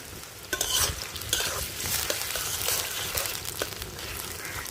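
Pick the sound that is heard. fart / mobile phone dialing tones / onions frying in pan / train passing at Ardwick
onions frying in pan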